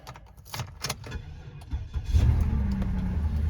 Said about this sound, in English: We're going to go ahead and start the car and let it warm up.